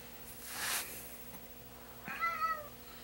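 A pet cat of six or seven years meows once with a rising, drawn-out call, close and fairly loud, after a brief rustling noise in an otherwise quiet room.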